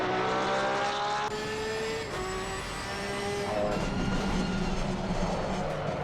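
Race car engine in Assetto Corsa Competizione revving hard through gear changes, with rising whining tones that drop at each shift, loud and continuous, alone without talk.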